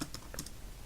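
A password being typed on a computer keyboard at a login screen, a quick burst of several crisp key taps in an uneven rhythm, close and clear with no talking.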